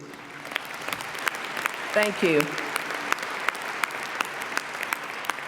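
An audience claps steadily after a song at a birthday celebration dinner, a dense, even wash of applause throughout, with a brief spoken thanks partway through.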